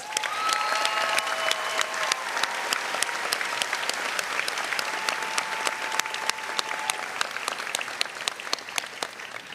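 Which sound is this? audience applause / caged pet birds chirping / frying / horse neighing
audience applause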